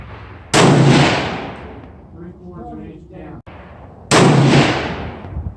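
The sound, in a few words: rifle shots at the range, Savage 111 and Weatherby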